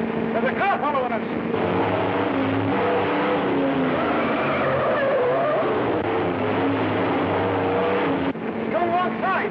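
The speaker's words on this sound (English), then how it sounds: "There's a car following us!" A 1930s car races along fast in a pursuit with a roaring engine and squealing tire skids, loud and continuous, while voices shout over it.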